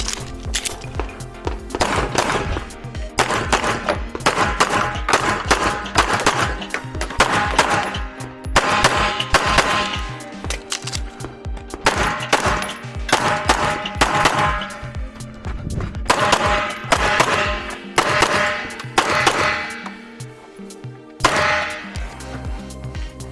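Rapid pistol gunshots fired during a USPSA action shooting match stage, loud and close, coming in quick strings and pairs with short gaps between bursts as the shooter moves through targets.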